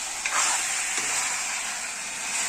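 Chicken rezala sautés in a hot pan with a loud, close, steady sizzle and frying hiss, brief stirring scrapes near the start, and no voices.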